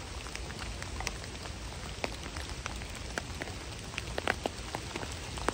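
Steady rain falls outdoors, a soft even hiss with scattered distinct drop taps throughout, fairly faint and with no voices.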